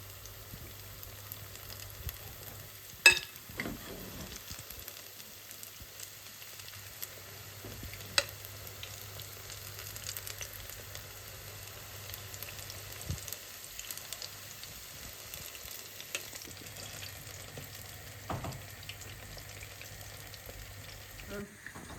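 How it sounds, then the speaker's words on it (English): Jamaican fritters sizzle steadily in hot oil, a continuous crackling fry with a few sharper pops and clinks of a utensil scattered through, fairly quiet and heard alone without talk. "I'm just making these fritters just fry to a nice consistency on one side so that they coat up to a nice golden brown color"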